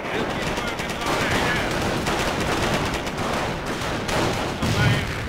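Dense, continuous gunfire from a Company of Heroes battle, rifles and machine guns crackling nonstop with a deeper thump near the end, while soldier voices shout underneath.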